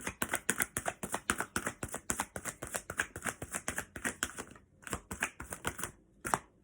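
Tarot cards are shuffled in a rapid, close run of crisp riffles and flutters, a short pause, then a few more quick shuffles ending in a sharp tap.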